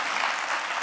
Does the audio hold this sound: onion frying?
no